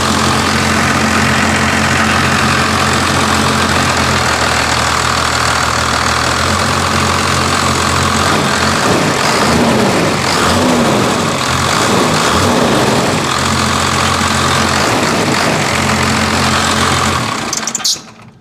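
A first-generation truck's engine idles loudly and steadily up close with a dense, rough, knocking rumble, then is put in gear, and the sound cuts off abruptly at the very end.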